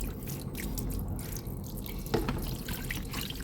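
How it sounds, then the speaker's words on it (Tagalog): Water runs and drips steadily at a makeshift washing spot over a floor drain while fish are being cleaned, a soft continuous trickle close by with no talking. "Dito na lang ako manghugas ng isda."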